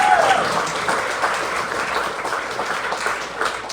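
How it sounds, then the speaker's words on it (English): An audience at a ceilidh claps in sustained applause, a dense, fairly loud crowd of hands that carries on evenly throughout. "Can we get another round of applause for the MacDonald"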